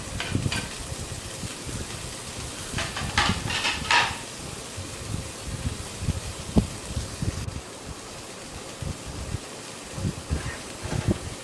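Onions, curry leaves and green chillies fry in hot oil with mustard and cumin seeds for egg masala, a steady close sizzle broken by occasional stirring scrapes, a few louder bursts early on, no one talking.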